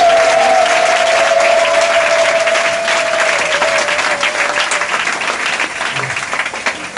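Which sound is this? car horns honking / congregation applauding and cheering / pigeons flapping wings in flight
congregation applauding and cheering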